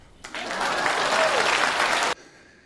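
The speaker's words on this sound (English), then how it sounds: "Please clap." A dense burst of applause from a crowd starts abruptly, holds at full loudness for about two seconds, then cuts off sharply.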